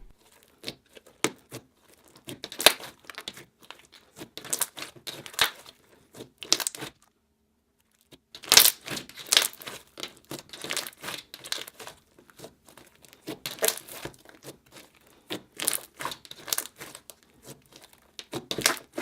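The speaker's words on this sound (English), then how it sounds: "I decided to tear up some of these little foam packing pieces and mix this into the slime." Small foam packing pieces torn apart by hand for slime, heard as close, dry crinkling and tearing in irregular bursts with a few short pauses; no talking.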